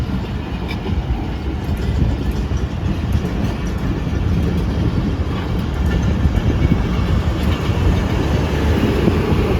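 Hazara Express passenger train hauled by an HGMU30 locomotive in Karachi, a loud, close, continuous rumble of rolling wagons with faint clattering on the rails throughout.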